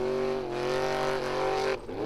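Formula offroad race car at Icelandic Formula Offroad Round 2 at Stapafell, its engine screaming at high revs in a sustained loud whine that dips briefly before climbing again, close and with no talk.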